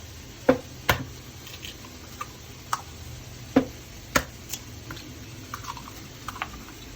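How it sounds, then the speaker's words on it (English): Eggs for a three-egg omelette are mixed in a bowl, heard as a series of separate sharp taps and clinks, close and fairly quiet, spaced irregularly with soft scraping between. "we're gonna mix a 3-egg omelet"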